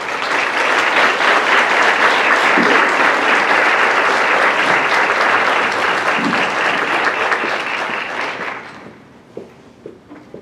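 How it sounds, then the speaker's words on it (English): Conference audience breaks into loud, sustained applause, dense clapping filling the room for about eight seconds before fading to a few scattered claps and small noises. "Let's give another round of applause for Kathy."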